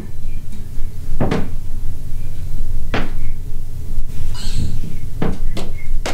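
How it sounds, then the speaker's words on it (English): Several sharp knocks and thuds sound inside the old Jennie Wade House, scattered irregularly over a steady low rumble of room noise. "Did you hear that knock?"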